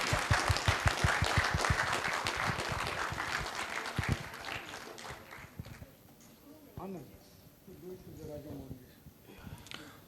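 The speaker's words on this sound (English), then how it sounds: "can we have a huge round of applause?" Conference attendees applaud during a felicitation at a business conclave: quick, closely packed claps ring out loudly at first, thin out after a few seconds, and give way to a voice talking over the room.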